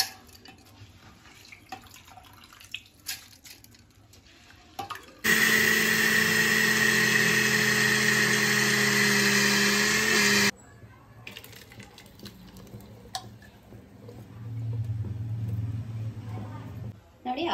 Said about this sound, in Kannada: ಇವಾಗ ಮಿಕ್ಸಿಗೆ ಹಾಕೊಂತ ಇದ್ದೀನಿ